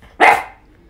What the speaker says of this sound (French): un joli petit chien qui aboie